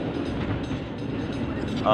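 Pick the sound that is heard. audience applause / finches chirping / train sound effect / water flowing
train sound effect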